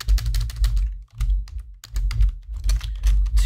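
Rapid keystrokes on a computer keyboard, clattering in close bursts with two short pauses, loud and near with no voices.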